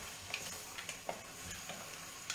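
Calamarata pasta with mussels and cannellini beans is stirred in a pan, a soft continuous sizzle broken by faint scraping and clicking strokes, quiet and close.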